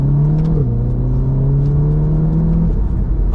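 A Volkswagen Golf R Mk7.5 engine hums steadily while driving, with a brief shift in pitch early on, then a smooth, continuous drone up close.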